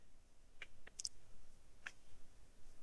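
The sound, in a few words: mouse click in PDF editor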